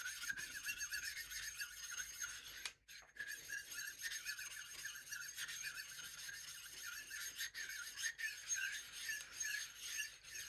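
Two sharpening stones, one of them 400 grit, rubbed together in a steady back-and-forth rasping grind, faint and close, with a brief pause partway through and no talking.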